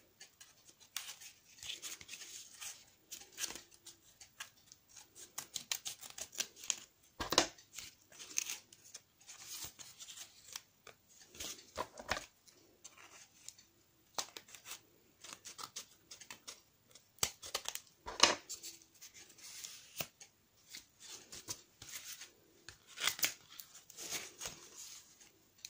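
Scissors cut paper for a paper-craft beach cabin pop-up album, making a long series of light, crisp snips and rustles close by, irregular in rhythm, with no talking.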